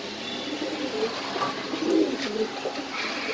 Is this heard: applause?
no